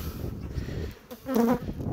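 A close, low buzzing drone of honeybees at a hive frame, wavering in pitch and swelling louder near the end.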